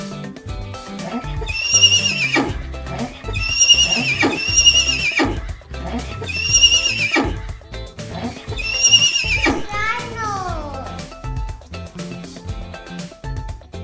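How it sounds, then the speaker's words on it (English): A horse whinnies loudly several times in a row, high shrill neighs separated by brief pauses, with hoof clip-clop underneath. "The sound of horse is called neigh."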